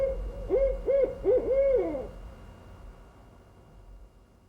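A barred owl hoots in a short series of rising and falling calls, clear and fairly close, before fading into quiet background hiss.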